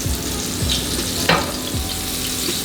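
Pork chops fry in hot oil in a pan, browning to golden, with a steady close sizzle broken by a few soft pops and stirring touches.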